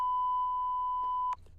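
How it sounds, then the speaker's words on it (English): A single steady censor beep holds for over a second, loud and clean, then cuts off abruptly with faint room noise after it. "just censor beep it"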